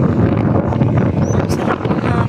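Wind gusting hard against a phone microphone outdoors, a dense rumbling buffet that fills the short stretch with only faint hints of voices underneath.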